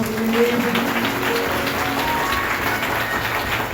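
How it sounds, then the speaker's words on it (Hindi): Congregation at a church service clapping loudly, a dense continuous wash of applause filling the room with some musical tones underneath. "आइए जोरदार ताली बजाएं।"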